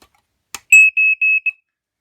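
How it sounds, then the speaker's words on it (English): An ICO EI100B smoke alarm, made for RVs and homes, sounding during a test: a single click, then four loud, piercing high-pitched beeps in quick succession, close by. "God, it's got one heck of an alarm on it, some loud."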